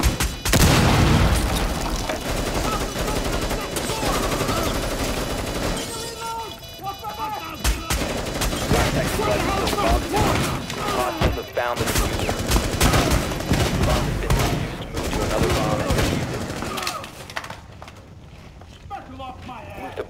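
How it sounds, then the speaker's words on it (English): Rapid gunfire and heavy explosions in a Rainbow Six Siege firefight, loud and dense, with a player talking over the chaos and a quieter lull near the end. "Fucking suicide bomber blew through a wall and got me. Oh crap, he's shooting me still."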